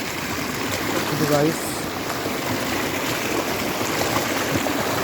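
Heavy rainwater rushing along in a steady broadband flow, loud and close and continuous, with someone briefly talking over it.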